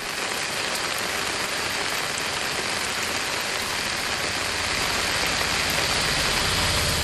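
Heavy rain with strong wind pours down in a dense, unbroken roar of hiss, loud and steady throughout, growing slightly stronger toward the end.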